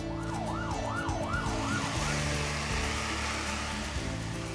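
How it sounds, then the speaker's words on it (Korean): A fire engine siren wails in a rising and falling cycle, then fades under the low rumble of traffic and engine noise. "그 사이 소방차까지 출동한다."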